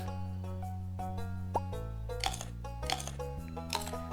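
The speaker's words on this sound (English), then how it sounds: "That is not the right sound effect for an omelet." Cartoonish omelet cooking sound effect from the video game Stardew Valley: a sequence of bubbly plops and pops over sustained tonal game music, several bright bursts landing in quick succession.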